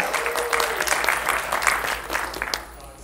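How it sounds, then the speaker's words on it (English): Cinema audience applause at the Joy Cinema in Tigard, Oregon, a sustained burst of many hands clapping, fairly loud and fluttering, tapering slightly toward the end, with a faint voice audible underneath at the start. "Biggest round of applause of all for Roberta."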